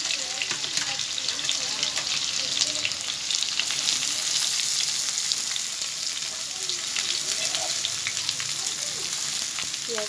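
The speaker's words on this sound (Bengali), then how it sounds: "পেঁয়াজগুলো ভেজে নেব" Sliced onions and potatoes fry in hot oil, a loud, steady sizzle with crackles and occasional stirring scrapes lasting the whole time.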